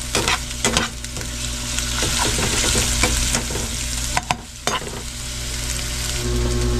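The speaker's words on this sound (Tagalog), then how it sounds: "Tamang gisa lang po yan hanggang sa mga golden brown yung bawang natin." Garlic sautés in a hot pan until golden brown, a continuous bright sizzle broken by scraping stirs and occasional clacks of the utensil against the pan, with no talking.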